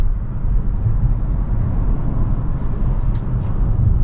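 A 2022 Infiniti QX55 cruising on a road, a steady low engine and road rumble with constant tire noise, close and even throughout.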